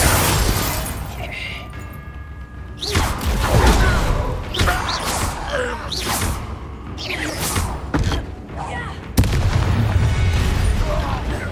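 Incendio fire spell cast in Hogwarts Legacy, heard as loud booming bursts and crashing impacts in a busy combat scene, with several heavy hits and a final big blast.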